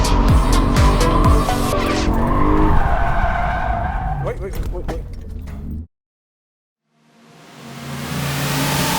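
A 2008 BMW M3 E90 sports car roars and its tires squeal while voices sound over it; the sound cuts to silence, then engine noise swells back in.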